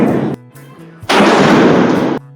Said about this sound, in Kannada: ಇವರು ಮೊದಲೇ ಎಲ್ಲ ಪಟಾಕಿ ಖಾಲಿ ಮಾಡುತ್ತಿದ್ದರು